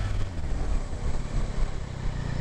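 A 2022 Yamaha Tracer 9 GT motorcycle, still being run in, brakes hard during a test: steady low engine and road rumble with wind noise throughout, fairly loud and continuous.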